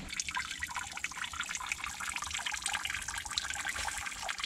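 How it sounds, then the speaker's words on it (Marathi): A small stream of water runs at a cave on Nimgiri Fort, a close, steady trickle with a dense, splashy rush and no voices over it. "आणि इथे एक पाण्याची धार बघा"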